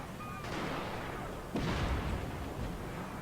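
Broadsides of naval cannon fire boom from wooden warships in a Shogun 2 Fall of the Samurai sea battle, dense overlapping blasts rumbling continuously with a fresh heavier volley partway through.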